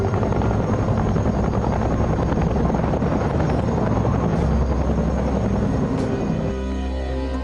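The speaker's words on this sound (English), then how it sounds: "the air mobile assault comes in by helicopter" Military helicopters arrive for an airmobile assault by a paratroop brigade in the Vietnam War, a loud continuous rotor roar and engine drone close overhead that drops slightly in level near the end.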